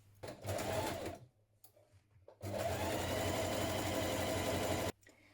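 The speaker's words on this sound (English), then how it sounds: "Pin your hood pieces together right sides facing around the curve like this, and then we're going to stitch that in place." A sewing machine stitches hood pieces together around a curved seam, running in a short burst, pausing, then in a longer steady whirring run, close and clear.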